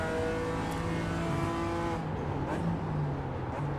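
A BMW M4 G82 GT4 engine in iRacing at Circuit Zolder, a loud steady drone that drops with quick downshifts into third gear, the pitch falling in steps before holding low.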